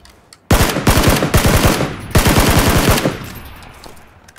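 Automatic gunfire in PUBG comes in rapid bursts of close, loud shots, two sustained strings broken by a short pause, followed by a fading tail of softer ambience.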